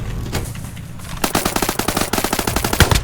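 Rapid automatic gunfire in a Scum-style Roblox shooter game, a loud continuous burst of closely spaced shots with a few scattered shots just before it, no talk over it.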